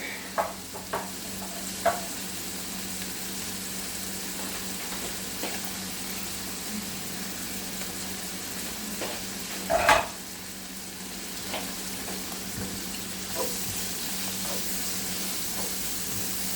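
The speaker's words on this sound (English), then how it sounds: "Another couple of minutes of this sautéing up." Garlic cloves and halibut sautéing in a pan give a steady low sizzle, broken by a few light scrapes and one louder clatter of stirring near the middle.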